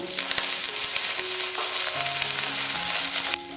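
Curry leaves crackle and sizzle loudly in hot coconut oil for a chicken curry, a dense continuous spatter with a few sharper pops, close up and with no talk.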